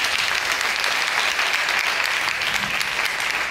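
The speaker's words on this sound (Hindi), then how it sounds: "एक बार उनके लिए जोरदार ताली" An audience at a memorial discussion and honours ceremony claps for a guest, with thick, continuous applause at steady strength from start to finish.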